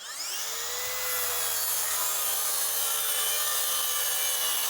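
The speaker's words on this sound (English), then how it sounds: "Take the awesome Makita plunge track saw" A Makita plunge track saw cuts through wood during a tiny house kitchen remodel, its motor spinning up with a steady, loud, bright whine and rasping blade noise that holds through the cut, with no talking.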